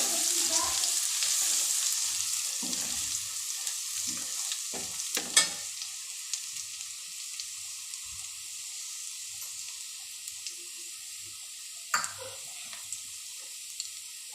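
Ginger and garlic sizzle steadily in hot oil in a pan while pulao is prepared. The frying hiss is continuous and close, broken by a few sharp stirring scrapes and clinks, with no talking.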